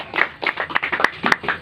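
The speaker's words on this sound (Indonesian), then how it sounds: "Tepuk tangan dong buat kalian semua." An audience at a leadership training session claps hands in a few loose, uneven bursts, close and fairly loud, the individual claps distinct rather than blended into a roar.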